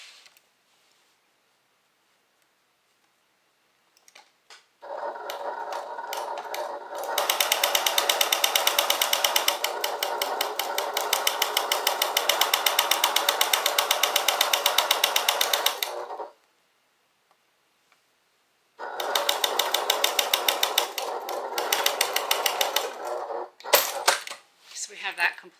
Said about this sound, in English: we're going to go ahead and stitch using a 1/4 inch seam allowance